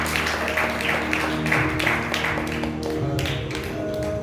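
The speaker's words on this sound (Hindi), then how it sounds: "एक बार जोरदार तालियां यीशु मसीह का जोरदार तालियां" Church congregation at a Sunday service giving loud, sustained applause, many hands clapping in a thick continuous roar with a few voices underneath.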